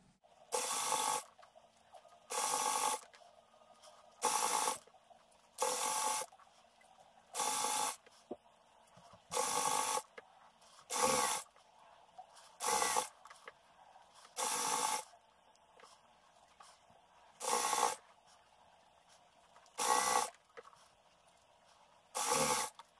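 A sewing machine stitches a binding strip onto fish net fabric in about a dozen short, even bursts, each separated by a brief pause, close and fairly loud with no talking.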